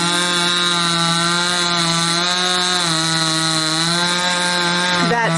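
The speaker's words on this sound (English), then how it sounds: "That sound is Selina chopping up the slabs that she's not going to use for building" A chainsaw cuts up wooden slabs for firewood, its engine a loud, steady buzzing drone held close by, wavering slightly in pitch and dipping briefly near the end.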